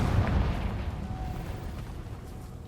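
A Confringo blasting spell from Hogwarts Legacy goes off as a deep, rumbling explosion, loudest at the start and then trailing into a long low roar that slowly fades.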